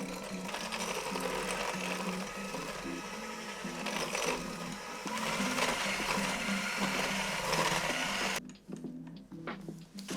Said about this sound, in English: Now cream those 2 things together till it's kind of like whipped and creamy